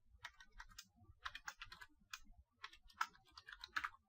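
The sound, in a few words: typing Python keylogger code on a computer keyboard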